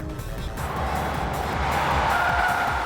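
Race cars, including a Nissan GT-R chasing an Evo 7 and a Porsche, roar past with steady loud engine noise and rising tire squeal, the sound swelling and staying dense throughout.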